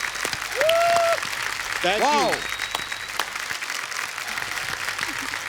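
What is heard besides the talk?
studio audience applause on a comedy show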